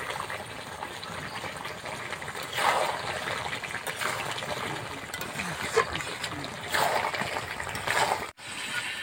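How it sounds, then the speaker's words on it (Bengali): Water poured into a papaya and duck curry in a pot, an uneven trickling and splashing stream that swells and fades over the cooking, close by with faint background noise. "এবার ঝোল করার জন্য পরিমাণ মতো জল দিয়ে দেবো"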